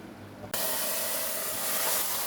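A loud, steady sizzle bursts in suddenly after a quiet start, hot oil tempering for chicken nihari crackling and hissing continuously in a pan.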